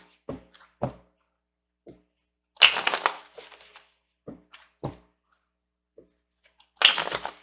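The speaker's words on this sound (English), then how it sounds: "There's some excitement going on as I'm over here shuffling." Playing cards are shuffled close up in short bursts, riffling and snapping with taps and knocks between them, then a final brisk riffle.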